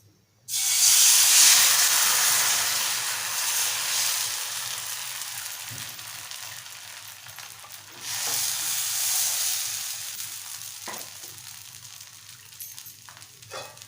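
Malvani ghavane batter hits a hot oiled pan over a high flame with a sudden loud hiss. The sizzle slowly fades, then flares again as more batter spreads.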